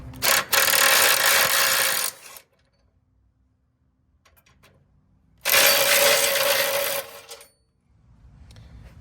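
Two long bursts of a power tool spinning out the 15 mm blue bolts that hold a front tow hook on a Ford F-150 Tremor, each lasting about two seconds and separated by a quiet gap, close and loud.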